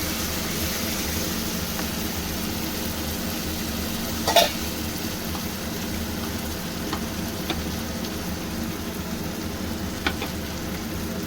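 Spice masala fries with softened tomato in a pan for a shrimp and taro stolon dish, a steady low sizzle and hum with a couple of brief stirring clicks, no speech.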